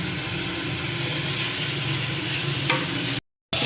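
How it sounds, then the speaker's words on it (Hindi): Chicken pieces fry in about a cup of cooking oil for nihari, a dense, continuous sizzle with stirring noise that cuts off into silence near the end, with no speech. "ये तकरीबन 1 प्याली जो है कुकिंग ऑयल ली है, और इसमें जो है ये गोश्त डाल रहे हैं।"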